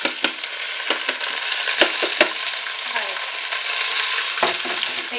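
Vermicelli, already browned, keeps roasting in a pan with a steady close sizzle, and a spoon stirs it with occasional sharp scrapes and clicks. No one speaks.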